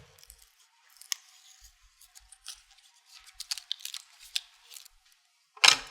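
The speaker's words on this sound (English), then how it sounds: "peel them away with your spatula" Card pieces peeled one by one off a sticky cutting mat with a spatula, giving faint, scattered crackles and tearing sounds in a quiet room, ending with a louder scrape.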